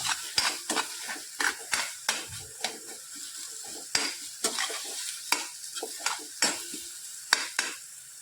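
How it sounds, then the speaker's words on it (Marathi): Salted brinjal bharit stirred in a pan, giving sharp, rhythmic spoon knocks and scrapes against the metal, close and distinct, with a faint sizzle underneath and no talking. "आणि इथे आता आपण चवीपुरतं मीठ टाकणार आहोत मिक्स करून घ्यायचं आहे चांगलं"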